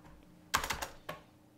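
A short burst of computer keyboard typing during web development coding work: a quick cluster of several key presses followed by one final keystroke, close and fairly quiet, with no talking.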